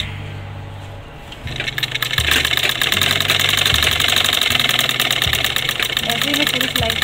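Sewing machine stitching a designer sleeve for a suit or blouse, a loud, fast and steady mechanical rattle running continuously close by after a short quieter start.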